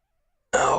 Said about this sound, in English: Yeah, coughing is not a good sign.